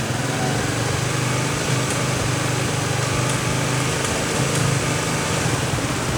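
A Honda Supra GTR motorcycle engine idling steadily nearby, a continuous buzzing putter that holds an even level throughout with no talk.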